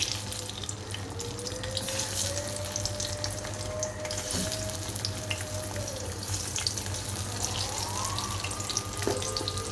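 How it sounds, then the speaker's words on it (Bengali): Pointed gourd (potol) fries with its spice mix in hot mustard oil in a kadai, giving a steady, even sizzling hiss throughout, with faint tonal whines drifting above it and no talk. "ঠিক আমি কড়াইয়ের মধ্যে তেলটাকে গরম করে নিচ্ছি। এখানে এর মধ্যে আমি পটলগুলোকে দিয়ে দিচ্ছি।"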